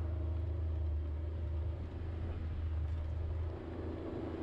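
A Kawasaki Mule Pro FXR side-by-side with heavy-duty suspension drives off-road through the desert, its engine a steady, loud, low rumble that holds evenly throughout with no talking.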